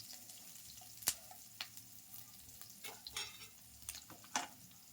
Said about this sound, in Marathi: आता एक कांदा घालते, व्यवस्थित जरा भाजून घेऊ.